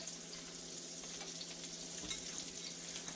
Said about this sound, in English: I'm going to add my shrimp. I'm just going to line them up in here.